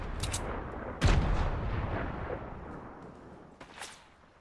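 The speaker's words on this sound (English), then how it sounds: "Somebody almost sniped me?" A sniper rifle shot rings out in Fortnite, a sharp loud crack with a booming tail that fades over a few seconds, followed by a fainter second report.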